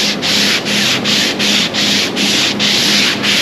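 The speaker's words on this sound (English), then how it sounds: "I like to sand till we see a little bit of the fiberglass, the high point just starting to show through" A hand block with 40-grit sandpaper scrapes back and forth over a fiberglass part in a steady rhythm of about eight strokes, each a loud, close, gritty rasp with brief pauses between them.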